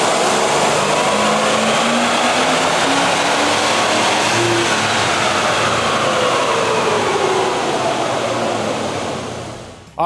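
A 1996 Ford Bronco with 212,000 miles revving hard on a chassis dyno in second gear, a loud, sustained engine roar whose pitch climbs steadily for about nine seconds before dropping off abruptly at the end.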